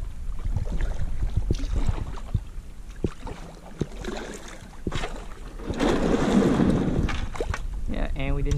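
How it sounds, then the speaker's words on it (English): A kayak scraping and bumping over oyster beds in a shallow creek, with rough grinding and splashing bursts, strongest near the middle, alongside wind noise and water sounds close to the microphone. "I'm really not afraid to scratch this kayak up by going over these oysters like this."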